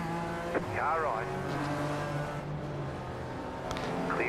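Race car engines from a BMW M Power Tour race in iRacing, a steady droning roar with a whining pitch sweep as another car passes close by, running under talk throughout.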